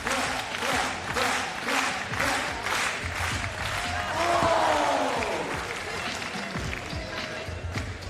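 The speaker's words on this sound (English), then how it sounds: "Clap." Spectators at a FIBA 3x3 basketball World Cup game in Amsterdam clap in a steady rhythm amid crowd noise, with an announcer's voice talking over the loud, continuous arena atmosphere.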